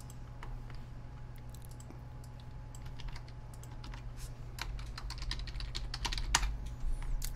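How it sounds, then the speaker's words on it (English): A password tapped out on a computer keyboard, a steady stream of soft, close key clicks over a low constant hum. "And then I enter the password."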